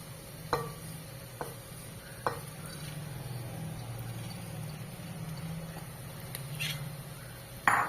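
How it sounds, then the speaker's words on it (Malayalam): Washed rice for vegetable pulao is stirred in a pan with a soft, steady frying hiss, and a few sharp scrapes of a spoon are heard at intervals. "ഇതിട്ട് കുറച്ചു നേരം ഒന്ന് വഴറ്റണം."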